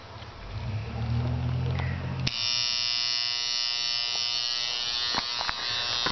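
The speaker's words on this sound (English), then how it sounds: "So let me go ahead and plug it in." A transformer powered on for a dead-short test gives a loud, steady electrical buzz with strong harmonic hum that starts abruptly about two seconds in, after a low rumble, and holds alone to the end with a few faint clicks.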